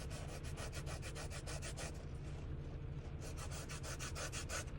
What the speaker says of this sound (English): Now, with this blending stump, I just take the sandpaper